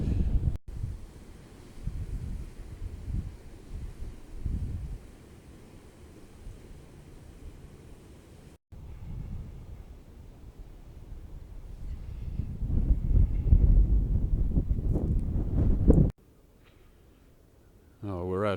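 Wind buffets the microphone on a chilly December countryside walk beside a river in Britain. It gives low, gusty rumbles that rise strongly toward the end, with a person talking over parts of it.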